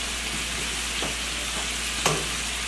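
Chicken fajita strips seasoned with chipotle and paprika fry in a pan, giving a constant, close, dense sizzle over a low hum, with a couple of faint scrapes.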